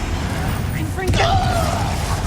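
A Confringo fire spell is cast in Hogwarts Legacy: a sudden whooshing burst with a bright sweeping tone midway, over a steady bed of game music and combat noise.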